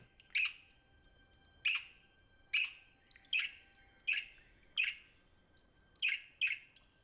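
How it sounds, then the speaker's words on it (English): Bird chirping, maybe a baby raptor: a run of eight sharp, bright calls spaced about a second apart, clear and fairly close against a quiet background. "it sounds like a bird"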